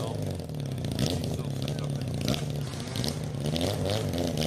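Street motorcycle on smooth road tires revving hard while climbing a dirt enduro hill. The engine drone rises and falls under excited voices and crowd chatter.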